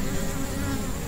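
Honeybees buzzing at a hive during a colony inspection, a dense continuous drone close to the listener with no voices over it.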